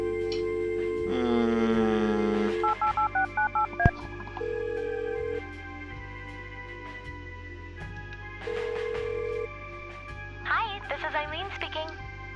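Telephone keypad tones from the Kathy Rain adventure game: a run of quick dialing beeps followed by longer steady tones and pauses, heard up close and clean alongside a brief synthetic ring.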